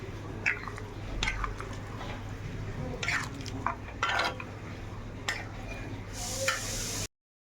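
A spoon scrapes and clinks against a pan while chicken bharta with egg and butter is stirred, soft intermittent scraping over a low steady hum, fairly quiet.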